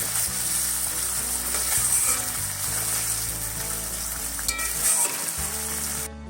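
Prawns cooking in coconut milk for a Bengali prawn malai curry, a loud, continuous close sizzle and bubbling with occasional stirring, steady throughout before cutting off near the end.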